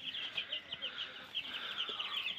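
Broiler chickens clucking inside a cage, a dense chorus of close, repeated clucks and chirps running in a quick, pulsing rhythm throughout.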